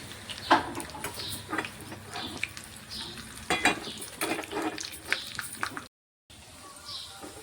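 Dried red chillies and spices crackle and sizzle in hot oil for tempering, with sharp pops and stirring scrapes in bursts, followed by a short gap and a softer sizzle.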